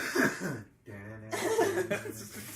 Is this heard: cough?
yes